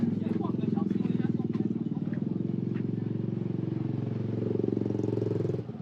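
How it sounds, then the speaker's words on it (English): Scooters ride past on a street in Ubud, Bali, their engines forming a steady, fairly close drone that swells slightly near the end, with people talking faintly in the background. "Scooters everywhere."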